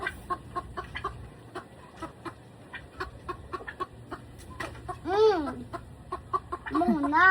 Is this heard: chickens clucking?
yes